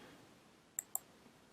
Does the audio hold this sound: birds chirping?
no